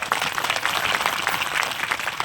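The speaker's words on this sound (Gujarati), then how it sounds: "દોલતરામ બાપાને ખૂબ તાળીઓથી વધાવો" A gathered crowd welcomes Dolatram Bapa with sustained applause, many hands clapping densely and evenly, loud and steady with no break.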